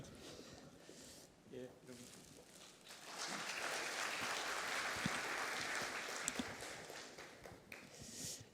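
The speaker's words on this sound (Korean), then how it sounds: "큰 박수 부탁드리겠습니다." Audience applause fills a grand hall at a business management association's executive award ceremony. The applause swells after a few seconds of quieter talk, then holds as a dense, sustained wash of many hands clapping.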